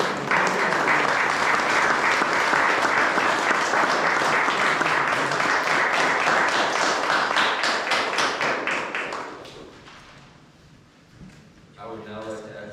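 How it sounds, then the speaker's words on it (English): Guests at an Eagle Scout court of honor ceremony for Troop 619 clap for about nine seconds, a loud dense round of applause that fades out, followed by a voice speaking. "Can you all just give yourselves a round of applause for all your help?"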